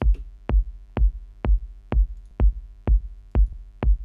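A techno kick drum in Ableton, with the same EQ applied twice, pounds in a steady four-on-the-floor loop, each punchy low thump topped with a brighter click, loud and alone.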